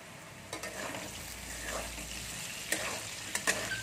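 Potatoes fry in a pan with a steady low sizzle, broken by a few sharp utensil scrapes and taps as they are stirred; no one speaks.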